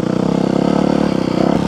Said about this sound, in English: Oh, there's a motorcycle.